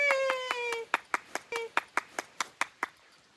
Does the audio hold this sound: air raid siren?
no